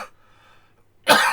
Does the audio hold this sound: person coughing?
yes